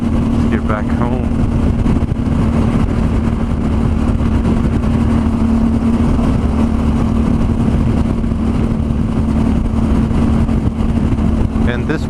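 Suzuki V-Strom adventure motorcycle cruising on a California freeway near Milpitas, a steady loud engine drone mixed with wind rush, with a rider talking over it throughout.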